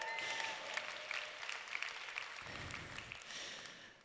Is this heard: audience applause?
yes